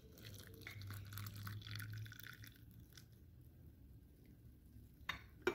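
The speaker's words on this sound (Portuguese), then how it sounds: "E eu vou acrescentar o leite fervente." Boiling milk poured into a mug of creamy coffee, a soft liquid stream trickling and filling for a few seconds, quiet and close, ending with a light clink.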